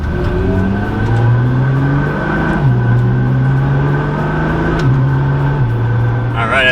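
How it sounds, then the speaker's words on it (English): A Nissan GT-R engine pulls under slow, gentle acceleration while warming up, a steady low drone that rises and shifts in pitch through gear changes, heard from inside the car. "as we warm up the car a little bit, slow acceleration"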